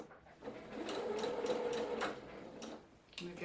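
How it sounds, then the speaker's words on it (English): A domestic sewing machine set to a 1.5 stitch length runs steadily while stitching backwards and forwards on a side seam of a peasant top. Its whirring, ticking motor continues close and fairly quiet, with a brief slowdown near the end. "So let's go and sew this in. So backwards and forwards."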